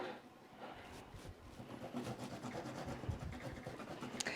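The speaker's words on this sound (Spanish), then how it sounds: "yo lo que hago es rallar el jengibre" Fresh ginger root rubbed against the fine side of a kitchen grater, soft repeated rasping strokes in a quiet, close-up kitchen setting.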